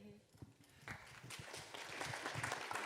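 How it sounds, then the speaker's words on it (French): Audience applause at a Climate Justice Camp gathering, starting thin and swelling into a dense, steady wash of clapping after the first second, with voices mixed in underneath. "J'aime trop applaudir, vraiment."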